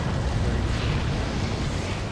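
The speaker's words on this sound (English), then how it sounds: "I just burst into flames for no reason" A Dead Space character bursting into flames: a steady, loud roaring whoosh of fire that holds dense and unbroken for the whole stretch, with no talking over it.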